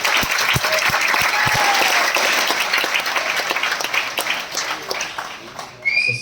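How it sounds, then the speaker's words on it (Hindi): Loud, sustained applause from a large audience at a motivational speaking event aboard a cruise ship, dense steady clapping that swells and then slowly tapers off. "जोरदार ताली होनी चाहिए अमित शर्मा जी के लिए।"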